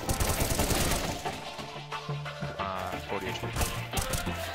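Rapid gunfire in CS:GO rattles loud and close in sharp bursts, overlapping with other game sounds.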